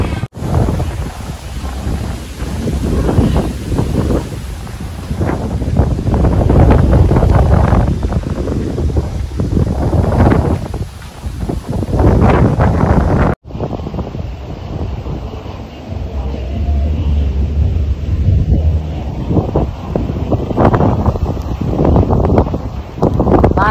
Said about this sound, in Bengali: প্রচণ্ড বাতাস এবং বৃষ্টি,